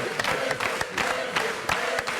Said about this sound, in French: Voilà, applaudissez.